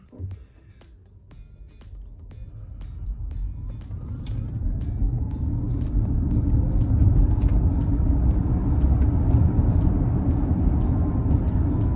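An Audi on a test drive to check its cooling system for air pockets, heard from inside as a low engine rumble that swells steadily as the car gathers speed, with light ticks and clicks over it.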